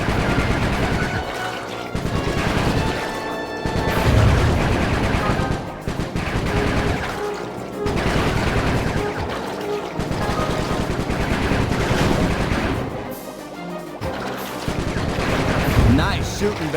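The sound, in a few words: gunfire shooting in Sly 3 video game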